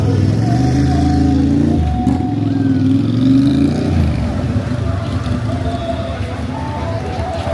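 A motorcycle engine revs loudly on a narrow street in Malaysia, a strong harmonic roar that rises, drops off, then settles into a steady rumble for several seconds.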